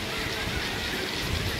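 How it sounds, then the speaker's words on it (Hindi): Sudden rain falling as heard from a rooftop: a steady, dense broadband hiss of rainfall and light wind noise, continuous and fairly loud throughout. "अभी ये बारिश अचानक की बारिश हुई है"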